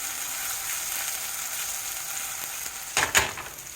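Maple sausage sizzles steadily in a hot pan at close range, a soft continuous crackle broken by a couple of louder scraping stirs near the end.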